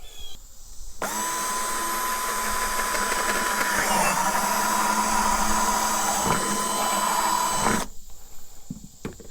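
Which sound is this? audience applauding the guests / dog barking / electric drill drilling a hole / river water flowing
electric drill drilling a hole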